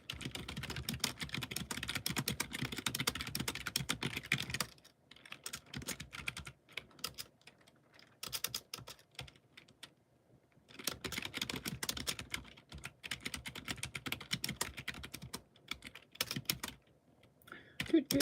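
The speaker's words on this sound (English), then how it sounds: "Doesn't matter how fast you type if it's all wrong." Fast typing on a computer keyboard, close and clattering in dense bursts separated by short pauses, with faint sounds between the runs.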